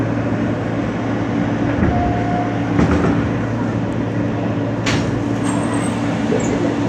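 An R160 subway car rolls along the M line toward Queens, its steady low rumble and hum filling the whole stretch, with faint rail clicks and a brief squeal under the continuous ride noise.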